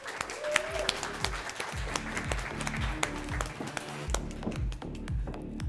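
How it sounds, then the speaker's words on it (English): An audience welcomes the first model at a hair-blending masterclass with scattered, uneven claps and taps, fairly close and continuous. "Please give her a round of applause."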